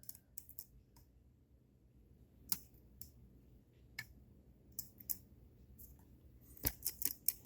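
Lock picks work a challenge lock, giving faint irregular metallic clicks and ticks over near silence, with a few louder taps toward the end.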